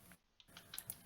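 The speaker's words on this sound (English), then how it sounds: "I was typing" Faint, scattered clicks of fingers typing on a computer keyboard, a few quick keystrokes in a quiet room.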